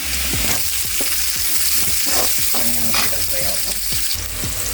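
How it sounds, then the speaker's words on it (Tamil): Garlic and onions frying together in a pan, a steady loud sizzle running throughout with occasional stirring scrapes, close up and with no voices. "இப்போ வெங்காயம் போட்டுக்கலாம்."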